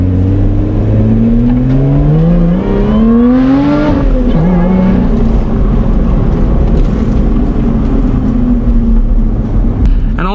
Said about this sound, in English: I am going to roll down the windows for you guys so you can get more of the engine noise